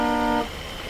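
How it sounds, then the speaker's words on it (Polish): Car horn honking in Euro Truck Simulator 2, a single steady, loud toot lasting under half a second and then cut off, leaving engine rumble beneath. "Tutaj już ktoś trąbi nam."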